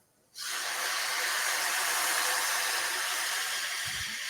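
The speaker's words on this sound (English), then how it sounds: "So we are going to deglaze the pan with some sherry." Sherry hits a hot pan holding browned onion fond and erupts into a loud, steady sizzle that starts abruptly and holds for several seconds, with a faint knock near the end.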